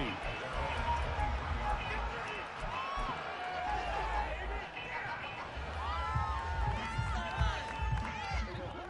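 A stadium crowd cheers at a Madden 22 American football game, a steady roar of cheering and babble running beneath a play-by-play commentator's voice.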